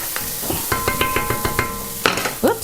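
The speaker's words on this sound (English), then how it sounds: "I'm just going to give this a quick stir." Food is stirred in a frying pan with a utensil, a series of quick scraping and clinking strokes over a faint sizzle, close and fairly loud, with a sharper clatter near the end.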